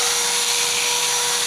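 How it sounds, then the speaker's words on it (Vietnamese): An electric drill powered through a 12V-to-220V sine-wave inverter rated 1000W, running steadily with a continuous high whirring motor whine and no pauses. "em cắm cái máy khoan này vào. À, em thử này."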